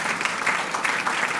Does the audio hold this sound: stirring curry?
no